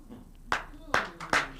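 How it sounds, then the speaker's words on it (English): An audience at a Nigerian talk program breaks into three short, sharp bursts of clapping, each fading quickly, with faint voices murmuring in the background. "Wait now they clap."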